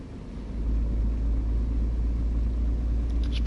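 A car engine in a driving video game on the road, heard as a loud steady low rumble that swells after the first half second and holds at high revs, close and alone with no talk.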